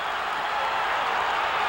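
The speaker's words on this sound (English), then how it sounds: "Oh, this crowd is going crazy." A wrestling crowd roars in a steady, dense wash of cheering and clapping, loud and sustained throughout this brief moment.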